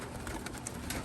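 Racing homing pigeons coo softly in a brief, faint murmur over steady background hiss.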